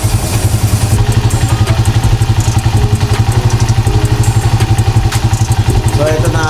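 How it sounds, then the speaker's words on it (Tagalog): A motorcycle engine idles up close with a loud, steady, rapid thumping beat, mechanical clatter riding on top and a few faint incidental noises in the background. "Idle engine lang dapat."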